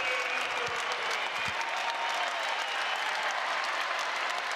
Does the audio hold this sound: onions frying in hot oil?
no